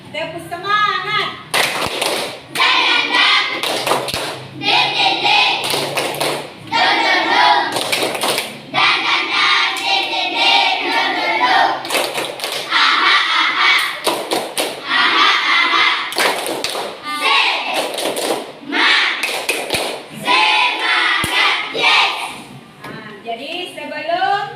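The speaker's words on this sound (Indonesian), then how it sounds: "Tepuk semangat." A school class claps a rhythmic 'tepuk semangat' spirit clap together, loud, close and sustained, in patterned bursts with brief gaps between phrases, with voices chanting along over the clapping.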